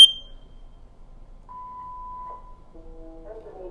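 A smoke detector sounds a sharp beep when its test button is pressed and held, heard close up with a child nearby and faint room sounds afterward.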